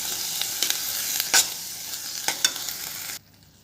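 Boiled chickpeas are stirred in a hot pan with potatoes, sizzling steadily with several clattering spoon scrapes, before the sound drops away abruptly near the end.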